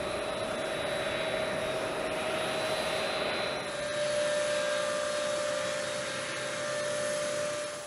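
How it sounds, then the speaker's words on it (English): A C-5 military transport's engines whine steadily while taxiing toward the runway, with a sustained high shrill from the power transfer unit riding over a loud broadband jet roar. "as it taxis toward the runway, the C-5's engine starts to make shrilling sounds, mainly because of the power transfer unit, or PTU"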